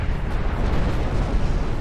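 Naval gunfire in Ultimate Admirals: Dreadnoughts, a continuous heavy rumbling roar of overlapping booms, loud and dense with no clear gaps.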